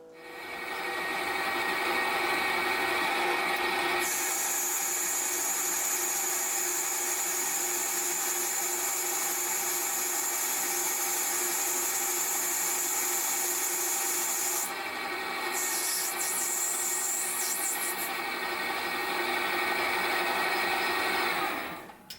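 Steady lathe machining of a small brass fulcrum hub for a hit-and-miss engine governor, a continuous loud cutting and rubbing whine that sharpens in pitch after a few seconds and carries on without talk for about twenty seconds.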